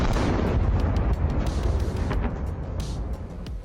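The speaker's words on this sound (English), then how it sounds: "The grenades used by the drone penetrated the thin armor of the howitzer and triggered the explosion of all the ammunition inside." Ammunition cooks off inside a self-propelled howitzer struck by an FPV drone, a loud, sustained roaring blast with crackling secondary bursts that gradually fades, heard alone without voices.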